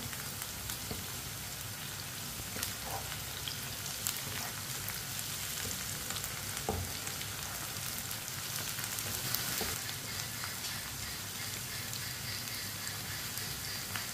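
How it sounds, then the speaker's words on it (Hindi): Chopped mild green chilies fry in oil in a pan, giving a steady, dense sizzle with faint crackles throughout, close and even, with no talking. "कटी हुई सब्ज मिर्च डालेंगे। सब्ज मिर्च मैंने ज्यादा ली है, ये तीखी वाली नहीं है। सब्ज मिर्च डालेंगे। 2 मिनट के लिए पका लेंगे दोनों चीजों को भी।"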